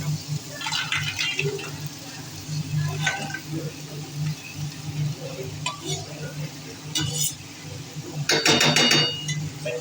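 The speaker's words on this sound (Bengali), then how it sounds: "এবারে এক এক করে কাঁকড়াগুলো দিয়ে দেবো" Crabs go into a frying masala one after another, with wet clatters and splashes as they are stirred in a pan nearby and a steady sizzle underneath. A person speaks at times.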